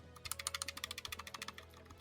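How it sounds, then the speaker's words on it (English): Buttons on a small fidget-toy-like object clicked quickly over and over, about twenty crisp close clicks in steady rhythm, faint and alone. "They make a nice little clicky sound."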